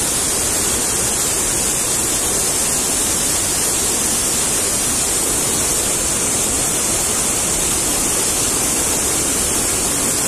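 A steady, loud roar of the Probiy waterfall in the Carpathians fills the whole clip, a dense rushing wash without breaks, close by.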